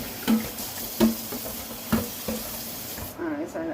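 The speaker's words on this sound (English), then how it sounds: "let's turn that water off for a second" Kitchen tap water runs steadily into a sink during dishwashing with homemade dish soap, a continuous broadband splashing rush with a few brief clunks, ending in a quieter moment as the flow stops.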